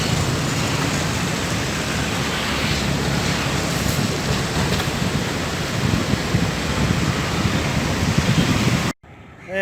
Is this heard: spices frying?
no